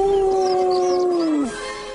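A single long, wavering cartoon werewolf howl that holds steady, then slides down and fades out.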